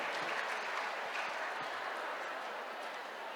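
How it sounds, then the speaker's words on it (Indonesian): A seated audience at a New Year church service in Jakarta applauds the pastor with dense, even clapping that holds steady and fairly loud throughout, with no pauses or voices standing out. "Kita berikan tepuk tangan sekali lagi kepada Amang Pendeta Bernard."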